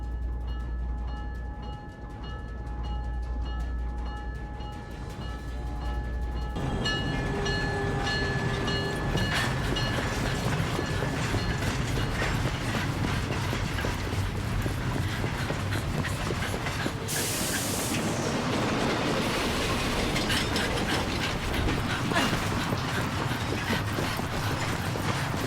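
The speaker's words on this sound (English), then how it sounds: "The train for the airport is about to depart." A train departs in the video game Syberia: The World Before, building from a low rumble into a loud, continuous hiss and rolling rail noise with faint clicking, joined by a bright burst partway through.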